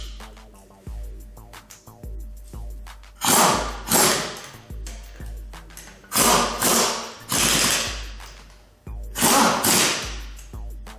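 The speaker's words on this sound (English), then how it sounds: "just barely tighten the lug nuts to the lowest setting on the impact gun" An impact gun, set to its lowest setting, snugs car lug nuts. Three short, loud rattling bursts come at a few seconds' interval, with softer knocks and clunks in the gaps between them.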